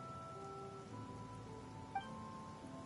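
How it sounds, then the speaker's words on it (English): Steady rain falls in the Genshin Impact video game, a soft, even hiss under faint droning background music, with one brief louder drop partway through. "It's been raining non-stop for a few days now."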